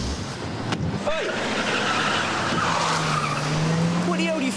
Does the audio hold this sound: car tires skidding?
yes